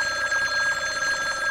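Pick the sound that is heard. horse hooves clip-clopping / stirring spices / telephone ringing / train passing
telephone ringing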